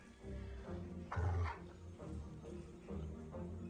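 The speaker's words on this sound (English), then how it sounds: "There is a terrible baying sound outside." Dogs bay outside in an Animal Farm video game, with a few distant, mournful yowls and whimpering cries rising and falling over a faint background.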